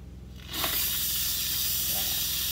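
An Instant Pot pressure cooker vents steam, bursting into a loud, steady, close hiss that starts abruptly and continues without a break.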